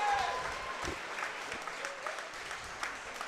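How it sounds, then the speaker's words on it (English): Crowd applauding after an amateur kickboxing bout between Jackson Hohman and Rocco Harmon, a soft, steady wash of distant clapping from an arena audience with some voices mixed in. "Let's give them a big round of applause."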